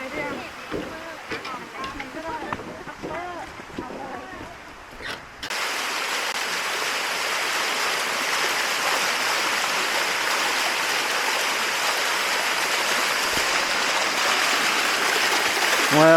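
Water rushes in a steady, close hiss at Sticky Waterfall in Chiang Mai, Thailand, starting abruptly after a stretch of talking and footsteps, then filling the rest of the clip alone.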